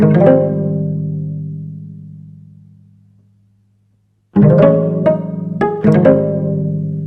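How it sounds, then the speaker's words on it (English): Slow, low half-speed violin chords ring out and fade to silence, then return with sliding pitch and a couple of sharp accents, warm and sustained. "I turned this half-speed violin into a virtual instrument as well"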